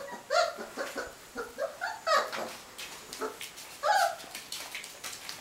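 Four-week-old Hovawart puppies whimper and yip in short, high-pitched bursts that repeat through the stretch, close by and fairly clear, with no speech over them.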